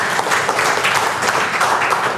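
A seminar audience at a Kangen Water marketing presentation claps steadily, a dense, even burst of applause filling the whole moment.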